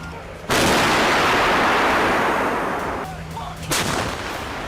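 An M109A6 Paladin self-propelled howitzer fires, giving a loud, sudden blast with a long rumbling decay, followed by a second, weaker boom a few seconds later.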